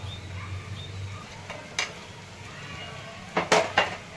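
Sharp metallic scrapes and clinks as fried appe are lifted out of an appe pan, a couple of isolated clacks then a quick cluster of spoon-on-pan knocks near the end over a low hum.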